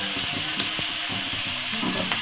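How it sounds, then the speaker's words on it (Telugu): Onions and curry leaves fry in a pan for an egg curry, giving a steady close sizzle broken by a few light clicks and scrapes of stirring, with no talking. "ఇదైతే కొంచెం బాగా వేగనివ్వాలి. కొంచెం బాగా ఉల్లిపాయలు కొంచెం వేగితేనే కొంచెం టేస్ట్గా ఉంటాయి."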